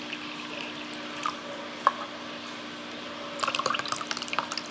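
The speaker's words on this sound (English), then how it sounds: "I'm gonna take our pink cranberry and fill it up to the second line." Pink cranberry drink from Starbucks poured into a cup up to a fill line, with a soft trickle and splashing liquid that grows busier toward the end, heard alone.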